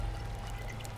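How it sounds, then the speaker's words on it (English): Water pouring into a cooking pot in Sons of the Forest, a steady close pouring rush that lasts about a second with no talk. "and you fill it up with water"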